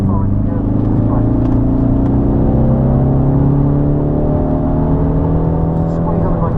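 A car accelerates on the Snetterton race track, its engine droning steadily and rising in pitch, heard close and loud from inside the car.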